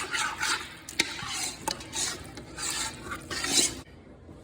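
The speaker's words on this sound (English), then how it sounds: "I'm gonna raise the temperature, stir in the rotel" A spoon stirs Rotel tomatoes into a pot of sauce piquante on a raised heat, giving rhythmic scraping and sloshing strokes with occasional clinks against the pot, close and moderately loud.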